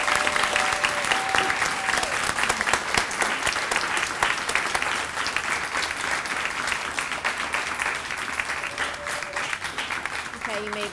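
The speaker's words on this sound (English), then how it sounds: "Let's give them a round of applause." Sustained audience applause fills a school moving-up ceremony as students who took part in a club stand, steady clapping throughout with faint voices mixed in.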